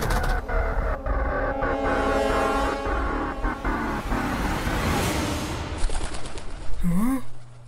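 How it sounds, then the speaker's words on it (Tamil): A pigeon coos in an animated cartoon scene, low and soft beneath steady traffic-like rumble, ending with a rising whooping tone. "இது புறா சத்தமாச்சே."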